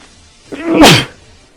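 A single sharp sneeze, close and loud, with a quick breathy buildup and an explosive burst.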